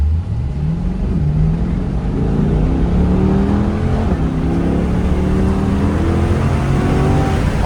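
A Chevrolet Corvette C8 launches and accelerates hard from the driver's seat, its engine note climbing steadily in pitch through a continuous loud roar over several seconds, with no pause between gears.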